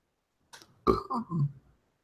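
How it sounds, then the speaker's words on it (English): A single short, throaty burp-like eruption, close and fairly quiet, with a softer gurgling tail right after it. "I just burped, so excuse me."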